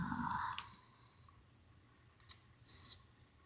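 Computer keyboard typing: a few scattered, brief clicks and taps, one short burst near the end, fairly faint in a quiet room.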